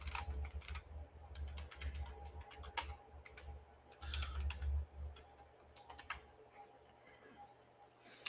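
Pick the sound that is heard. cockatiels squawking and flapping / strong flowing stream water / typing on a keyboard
typing on a keyboard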